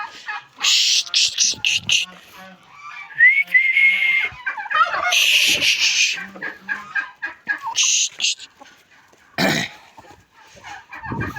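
A turkey guarding chicks gobbles and calls in rapid, shrill bursts, close and loud, with rattling clucks and whistling chirps scattered through a long, irregular stretch of noisy barnyard fowl.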